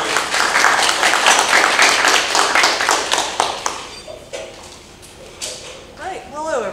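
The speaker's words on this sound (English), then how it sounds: "Let's give a warm round of applause to Christina Ward." Audience applause for speaker Christina Wald at an interview and insights event, a dense burst of clapping for about three and a half seconds that thins into scattered claps and fades, with faint talk at the end.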